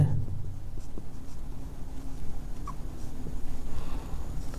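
A pen scratches across paper while working a difference-equation math problem, soft and close, with short strokes and brief pauses over a low room hum.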